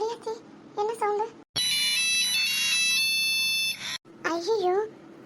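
A mobile phone rings loudly with a bright, steady electronic tone for about two and a half seconds, set between stretches of indoor talk before and after.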